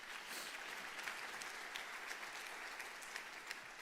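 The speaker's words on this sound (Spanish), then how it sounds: "Un aplauso a todos ustedes." Steady applause from a church congregation fills the space evenly, a dense wash of many hands clapping at moderate distance with no voices standing out.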